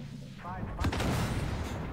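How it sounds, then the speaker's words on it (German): Artillery fire in the Armored Warfare tank game, heard as a heavy boom that breaks in partway through and leaves a dense low rumble. Battle noise sits around it and a voice talks over it. "da schießt schon immer eine Arti fleißig"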